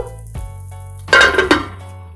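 A lid set down on a frying pan, giving a short metallic clatter and clink over a low kitchen hum and faint sizzle.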